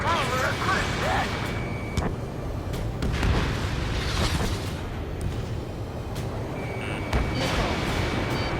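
Missile launches and explosions in the jet combat game Ace Combat 7, with dull booms and bursts scattered through steady engine noise, a repeating warning tone overhead and radio chatter in between.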